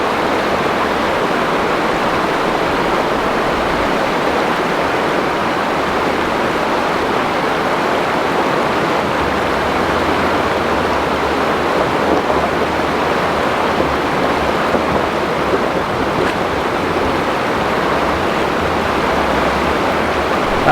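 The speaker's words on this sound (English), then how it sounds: "Walking the camera across the river rapids in the freezing cold" Cold river rapids rushing through Tasmanian forest on a 4WD trip route, a steady, dense roar of turbulent water that holds constant and close for the whole stretch, with no voices.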